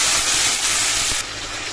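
Ginger, cumin and chili masala sizzles steadily in hot oil in a pan, a continuous bright hiss close by that softens slightly near the end.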